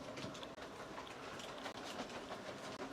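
A small model train runs along its track with a soft, steady clickety-clack, faint and close, with no voices.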